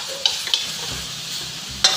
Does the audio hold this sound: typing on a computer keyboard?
no